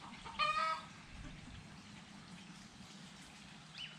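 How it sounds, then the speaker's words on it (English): A hen lets out a short, loud squawk near the start, then quieter background noise with a faint cluck at the end. "The chickens don't like the class."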